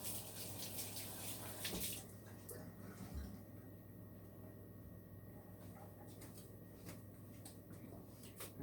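A kitchen tap runs steadily at low volume while sticky hands are rinsed during banana muffin baking, a soft continuous wash with occasional clinks and light handling noises, no speech.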